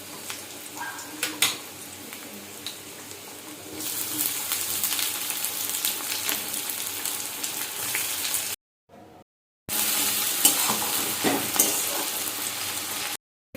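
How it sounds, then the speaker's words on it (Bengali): Steady sizzling of garlic and onions frying in a hot pan for a chicken dish, with occasional stirring clatter; the sizzle grows louder midway and briefly cuts out near the end. "রসুনটা একটু ভাজা ভাজা হয়ে গেলে এবার পেঁয়াজটা দিয়ে দেবো"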